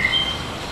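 Two birds tweet a duet in a language-learning setting, with a brief whistled call sliding across the first third of a second over a hissy, noisy background, faint and alone.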